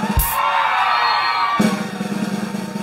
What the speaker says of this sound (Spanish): ¡Aplauso para la grandotota!